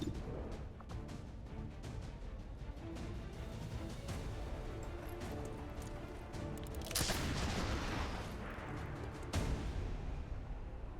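Gunfire in the turn-based strategy game XCOM 2, a dense, dull rumble of shots and blasts with two sharper, louder bursts near the end, with no talk.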